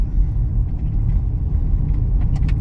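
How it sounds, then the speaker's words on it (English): Buses and traffic rumble along a town street in Ajijic, a steady, loud, low drone of engines with no talk. "Buses are running"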